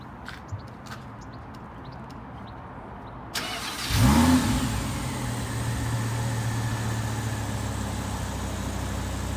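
Audi R8 V10+ fitted with a Capristo exhaust, cranking to life in a tunnel with a sharp roar, then settling into a steady, booming idle after a few quiet clicks beforehand, loud and close.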